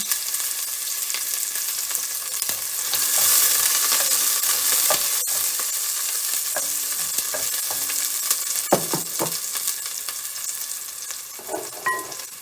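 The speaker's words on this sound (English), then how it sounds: "So I have a mixture of onion and scallion here, and now I'm just gonna just put in my oil to release some flavors." Onion and scallion sizzle in oil in a pan over medium heat, a steady near hiss broken by occasional spoon clicks and scrapes, loudest in the middle, with no talking.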